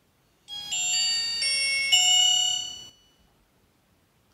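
A short electronic startup chime plays from an Aiek C6 credit-card-sized phone, a bright bell-like melody of several layered tones lasting about two seconds before going silent.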